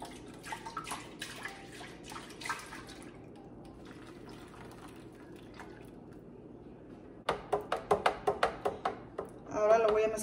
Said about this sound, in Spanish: Y voy a revolver muy bien para que suelte lo que quedó.